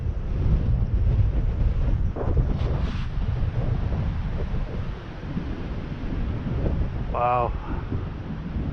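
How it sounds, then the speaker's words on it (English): East wind blowing across open ice during ice fishing, a steady, rumbling buffet of gusts striking the microphone throughout, with a brief spoken exclamation partway through. "The wind."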